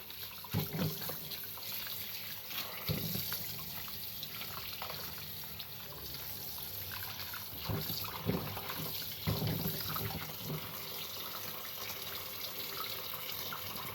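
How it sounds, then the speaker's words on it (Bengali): Raw green mangoes rinsed under a running kitchen tap, a steady stream of water with intermittent splashes and rubbing as the fruit is turned by hand, close, continuous and without speech. "আমগুলো আমি ভালো করে ধুয়ে নিচ্ছি"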